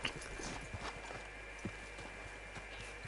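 Quick, irregular hoofbeats of a horse galloping in a video game, soft and somewhat distant over a steady hiss of background noise.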